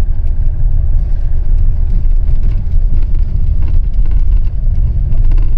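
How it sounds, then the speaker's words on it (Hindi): A Tata Safari SUV drives off-road on a jungle track, its engine giving a steady, loud, close rumble with rough road noise throughout and no talking. "चलो फाइनली हमने सफारी में ऑफ रोडिंग का भी एक्सपीरियंस कर लिया"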